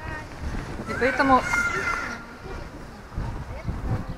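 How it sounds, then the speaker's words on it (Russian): Strong outdoor wind buffeting the microphone in gusts, with a rumbling low roar under a woman's speech. "Но очень сильный ветер."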